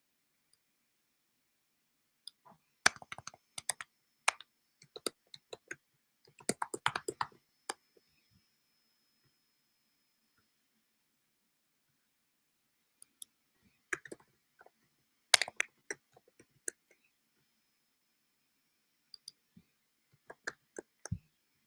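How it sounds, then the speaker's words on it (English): Bursts of light computer-keyboard typing, quick clusters of clicks separated by silent pauses, close and fairly quiet with no voices. "Am I typing the name wrong?"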